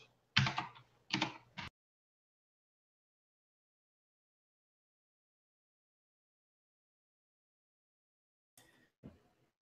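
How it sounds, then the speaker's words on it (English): A short burst of clicky keystrokes on a mechanical keyboard, then a long silence before a few more key taps at the end. "My mechanical keyboard."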